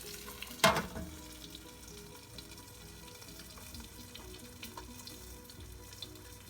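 Mackerel fries in a pan with a steady, soft sizzle throughout, joined by one sharper burst of spitting oil near the start, heard close and alone without talk.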